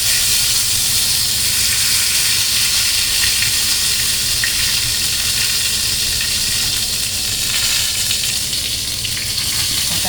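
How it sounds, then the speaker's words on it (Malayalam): Ingredients fry in hot oil with a loud, steady crackle and sizzle that runs throughout, close up, and with no talking. "അതൊന്ന് ഫ്രൈ ചെയ്തെടുക്കാം."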